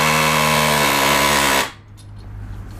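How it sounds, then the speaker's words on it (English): An air hammer rattles loud and close with a continuous rapid hammering during brake and wheel hub work on a 1996–2007 Ford Taurus, then cuts off abruptly, leaving a quieter workshop background. "Air hammer here."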